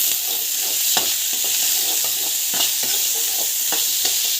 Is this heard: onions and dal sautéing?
yes